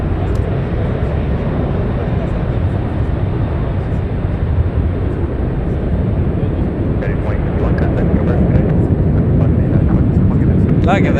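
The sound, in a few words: United airliner at San Francisco airport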